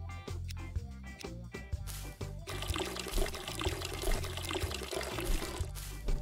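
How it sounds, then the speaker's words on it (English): Water pouring steadily onto plants in Weed Shop 2, a continuous splashing trickle over a few seconds with light game music and clicks in the background. "Have to water it 3 times."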